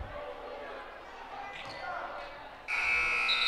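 An end-of-half buzzer sounds at a girls high school basketball game in a gym, a loud sustained electronic tone that starts near the end and holds steady over crowd murmur and ambient court noise.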